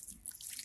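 Water poured evenly over a freshly planted air-layered sapodilla sapling, a steady soft splashing and trickling into soil, close and fairly quiet, continuous throughout.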